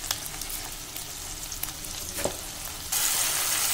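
Tomatoes saute with salt in oil for an anchovy fish curry, a close, steady sizzle broken by a few spoon scrapes, growing brighter and louder toward the end, with no voices.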